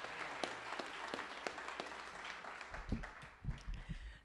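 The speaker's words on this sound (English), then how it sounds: "Please give her a nice round of applause." A rally crowd for SB 946 autism legislation gives a round of applause for Dr. Karen Fessel, steady clapping across the clip with a few louder sharp claps and low rumbles near the end.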